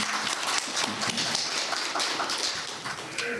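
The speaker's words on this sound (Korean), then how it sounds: "예, 박수." Audience applause at a Daedeok Innopolis forum as a research fellow is introduced: a dense, steady patter of many hands clapping in a hall for about three seconds, with no talk over it.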